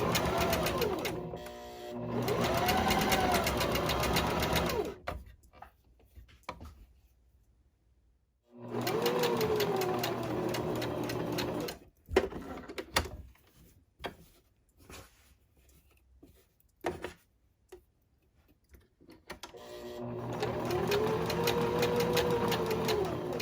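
A sewing machine stitches a pocket onto a boho tote, running in three bursts of rapid, whirring mechanical stitching separated by pauses with faint handling noises.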